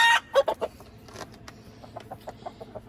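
Chickens cluck and squawk in a quick burst, then keep up a run of short, steady clucks nearby.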